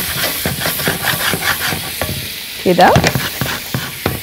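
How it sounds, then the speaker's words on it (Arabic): Onions sizzle in a hot pan while a spoon scrapes and stirs them in uneven strokes, close and loud, with a single brief spoken word partway through; the cooking is for koshari with yellow lentils. "نقلب عقبال ما البصل يدبل"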